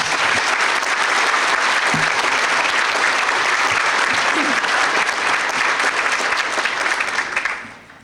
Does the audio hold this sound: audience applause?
yes